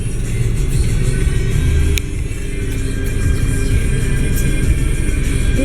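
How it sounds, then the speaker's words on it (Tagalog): Steady street traffic rumbles close by, with car engines droning and a faint click near the start, and no voices over the continuous low roar. "Traffic."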